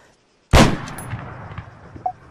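In the video game Arma 3, a single loud sniper rifle shot cracks suddenly after a brief silence and rolls away in a fading echo, followed by a few faint distant knocks.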